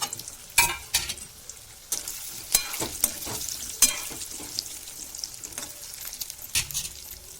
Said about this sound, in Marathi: आधी हे बटाटे चांगले तळून घ्यायचे, फ्राय करून घ्यायचे